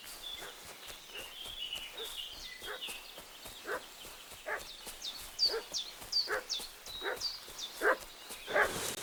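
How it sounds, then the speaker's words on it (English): A dog in the medieval video game Kingdom Come: Deliverance II barks repeatedly in quick, agitated bursts at moderate distance, alongside faint hoof clip-clops. "What's that dog making such a fuss about?"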